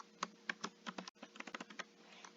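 Quiet, close keystrokes on a computer keyboard come in an irregular burst of quick taps with a short pause partway through, and no voices.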